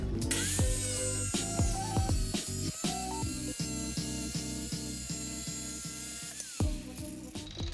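A DeWalt hand-held wet tile saw with water feed cutting tile, its high motor whine holding steady under a rattling, clicking mechanical chatter, spinning up and winding down at the ends.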